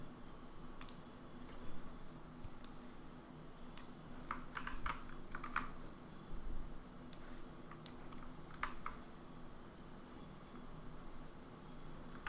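Computer keyboard typing while building a gym website, with quick irregular clicks and short bursts of keystrokes over a quiet room hum, close and fairly soft.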